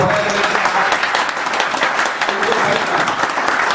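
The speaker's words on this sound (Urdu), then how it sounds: "سب سے پہلے ہمارے مہمانوں کے لیے بھرپور تالیاں ہو جائیں" Sustained, dense applause from an audience welcoming guests at a formal dinner in honour of a visitor, loud and steady throughout with no break.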